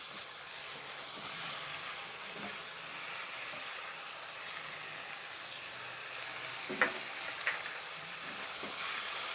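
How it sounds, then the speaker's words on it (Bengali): Pork and green chilli fry in a pan with a continuous, even sizzling hiss and a couple of faint clinks, no voices. "এবার আমি মাংসটাকে খুব ভালো করে কষিয়ে নেব।"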